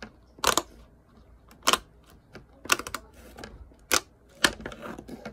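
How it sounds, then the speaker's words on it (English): A square Pop-It fidget toy is pressed on its loud side, giving about six sharp, close popping snaps at irregular intervals with faint small clicks between them. "Oh no, it's loud side."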